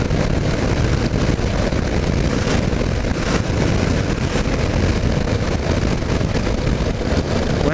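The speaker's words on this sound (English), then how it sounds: "I am fighting with the temper of the wind right now." Loud, constant wind roar on a country ride along Route 62 toward Mercer, Pennsylvania, a dense unbroken rush close to the microphone for the whole stretch, with no voices.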